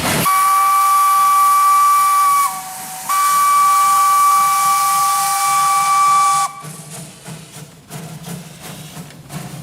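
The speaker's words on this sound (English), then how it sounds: "the locomotive also has the loudest whistle" A loud, piercing steam locomotive whistle on Java blasts twice, holding steady tones with a brief break, then cuts off, leaving hissing steam and chuffing.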